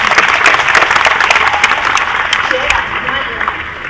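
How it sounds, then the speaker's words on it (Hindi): A loud burst of audience applause at a festival speaking session, as the crowd claps for a guest speaker. Dense, close clapping fills about four seconds and tapers slightly toward the end. "सबसे पहले एक बार जय जी के लिए जोरदार तालियां।"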